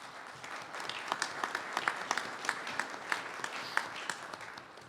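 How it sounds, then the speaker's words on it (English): An audience at an aviation owners' annual meeting gives a soft round of applause. It sounds distant and faint, and a few sharper individual claps stand out from the steady patter. "So give yourselves a round of applause."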